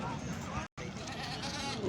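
A goat bleats among the bustle of a livestock market in Talagang, Pakistan, its brief call rising over near, continuous talk and crowd chatter, with one short gap of silence.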